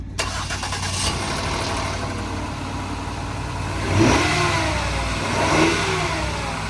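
A BMW 325Xi E46 with a 3-liter V6 cranks and starts, then idles steadily with a couple of revs rising and falling, close by.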